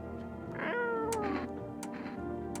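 A cat in the video game No I'm Not a Human lets out a drawn-out, wavering meow, close and clear, with a few faint clicks around it.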